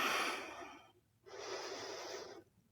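Two slow, deep breaths during a prenatal yoga session, a long airy exhale followed by a short pause and another full, steady breath, close and clear with nothing else around.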